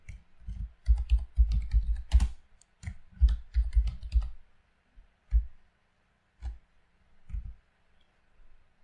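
Typing on a computer keyboard, with bursts of rapid clicking keystrokes and short pauses between groups, close and moderately loud.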